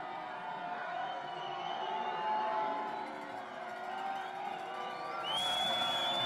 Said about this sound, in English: You hear the cheers from the crowd